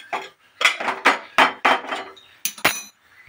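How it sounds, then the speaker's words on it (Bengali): A karahi wok is set on a gas stove with a run of sharp metallic clanks and knocks, close and loud, spaced irregularly over about three seconds. "তো গ্যাসে আমি কড়া বসিয়ে দিলাম, এর মধ্যে 50 গ্রাম মতো তেল দেবো।"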